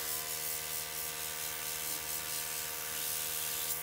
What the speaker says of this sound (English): I'm going to spray out all the cleaner.